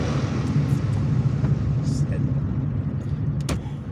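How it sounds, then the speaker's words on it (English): Inside a car moving through traffic, a steady low engine and road rumble runs throughout with a few faint clicks and brief higher noises from the surroundings, under occasional speech. "I'm just trying to drive in traffic"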